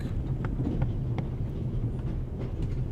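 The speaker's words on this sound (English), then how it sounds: "The noise on this train is driving me crazy." Rumbling train on the Orient Express in the video game The Raven, a continuous low roar with faint rhythmic clicks of wheels on the track, no speech.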